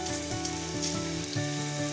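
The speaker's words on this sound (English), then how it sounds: "So we have our grapeseed oil. I'm going to toss in the shrimp." Shrimp sizzle in hot grapeseed oil in a pan for an Asian stir-fry: a steady, close crackle of frying with a faint hum underneath and no talking.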